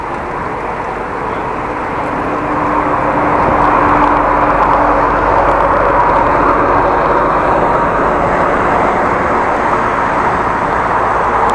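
Motorcycles ridden by a couple of friends on a road between Groningen and Appingedam: a broad, steady engine roar that swells after a couple of seconds and holds loud, with no distinct passes.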